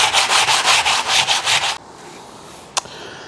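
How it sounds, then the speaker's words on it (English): An epoxy-coated surface is wet sanded with water by hand in rhythmic back-and-forth rubbing strokes, close and steady, then stops, followed by near silence and one sharp tap. "I'm gonna water wet sand it, because then I don't get so much dust flying around here as well."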